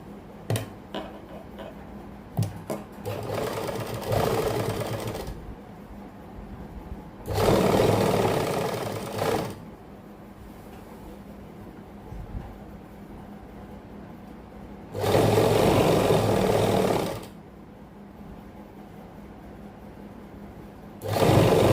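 Sewing machine stitching buckram onto the hem of a salwar, running in three distinct bursts of steady whirring separated by quieter pauses with small handling clicks.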